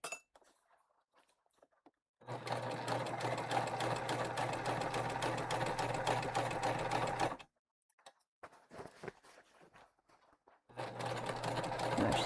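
A sewing machine backstitches a tote bag in a long steady run of rapid needle strokes, stops, gives a few scattered clinks and handling sounds, then starts stitching again, close and clear.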